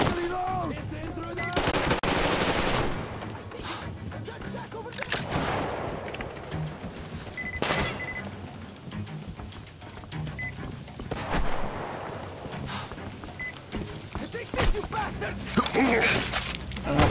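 Sustained machine gun fire in the shooter game Metro Exodus, dense rattling bursts and booms filling the whole stretch, loud and close, with occasional voices underneath.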